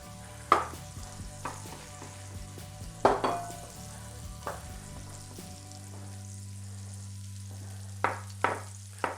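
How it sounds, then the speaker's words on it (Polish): Pork cutlets sizzle steadily in a hot pan, a continuous frying hiss with occasional clicks and knocks of utensils against the cookware. "Kotlety niech się smażą"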